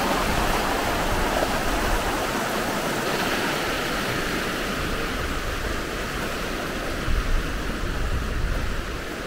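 Loud, steady rush of river water during a crossing of a river in Norddalen, Norway, a broad continuous roar close by with no voices.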